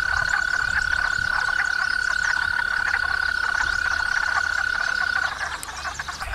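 Wood frogs call in a dense, continuous chorus of rapid quacking croaks alongside a steady high tone, close and fairly loud, with no voices.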